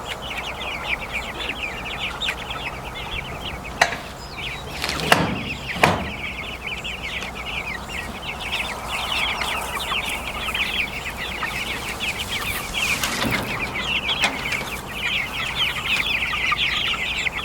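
Chickens cluck steadily in a farm pen beside a goat enclosure, a dense run of close, overlapping clucks and calls that continues throughout, with a few sharp knocks and thuds partway through.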